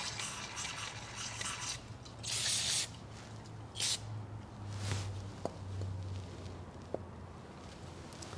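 Brake cleaner sprayed into a thread hole in the front case of a CAT C15 engine, short hissing spray bursts, two of them distinct, over faint background rubbing and a few small taps.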